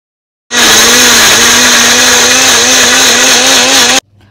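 A Wonderchef juicer mixer grinder blends muskmelon with a loud, steady high-pitched motor whine that starts abruptly, runs for about three and a half seconds at close range, then cuts off sharply.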